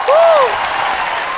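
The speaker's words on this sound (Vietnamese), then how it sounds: "một tràng pháo tay cho Suboy thưa quý vị" Brief burst of studio audience applause on a rap television show, loud at first with a whistle-like cry over it, then thinning out quickly.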